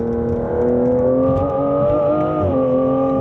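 A car engine revs hard and steadily at high rpm on a drive across a bridge, its rising and falling harmonic whine loud and close for the whole stretch with no talking.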